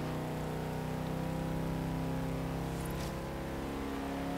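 A car engine in Forza Horizon 3 droning loudly at steady high revs with a strong harmonic tone, sustained throughout, with no talking.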